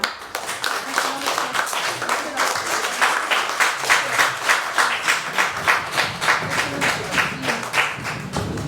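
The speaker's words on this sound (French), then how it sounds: "Vous pouvez les applaudir." Wedding guests at a civil ceremony in Saint-Ouen break into applause, a steady run of hand clapping with a rhythmic, pulsing beat that carries on throughout, a few voices faintly mixed in beneath.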